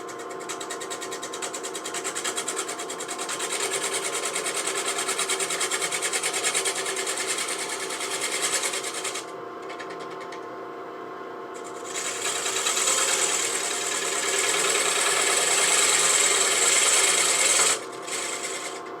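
A large cherry burl bowl spinning on a wood lathe while a tool scrapes the surface, making a steady, gritty, rasping whir that drops away briefly and then resumes louder, with no talking.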